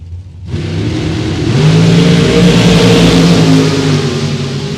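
Dragster engine at a drag racing event, a loud roaring launch that bursts in abruptly, swells and holds a heavy rising drone for several seconds.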